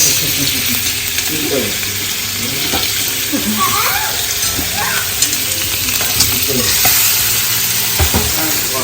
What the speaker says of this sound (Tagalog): Ito may nagigisa.